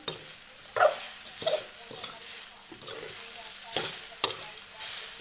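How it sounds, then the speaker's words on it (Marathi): A spoon scrapes and stirs sabudana khichdi in a pan over gentle frying, making a series of distinct, close scraping strokes spaced every half second or so above a low sizzle. "मस्तपैकी घेते बनवून साबुदाण्याची खिचडी"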